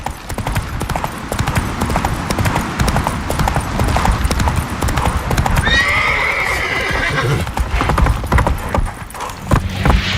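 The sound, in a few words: horse galloping in The Witcher 3 video game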